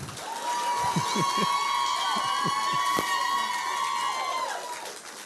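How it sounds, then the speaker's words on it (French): Applause in a church service for a granddaughter, a steady crowd wash over sustained organ-like tones, with a few louder claps and shouts near the start. "Applaudissez fort, c'est ma petite fille."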